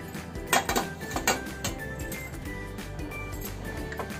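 Rice is stirred and mixed in a pot with sesame powder, a run of soft scraping and light clinking as the spoon knocks the pot, close and moderately loud, with no voice.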